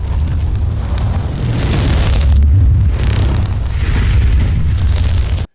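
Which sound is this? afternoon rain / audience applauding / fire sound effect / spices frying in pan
fire sound effect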